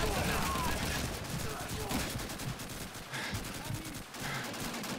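Rapid bursts of gunfire crackle repeatedly in dense volleys in the video game Call of Duty 2, with voices talking underneath the shooting.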